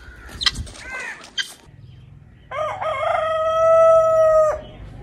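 A rooster crows loudly and close by, one long sustained call on a farmyard setting where a turkey is also kept, following earlier brief bird calls and clucks.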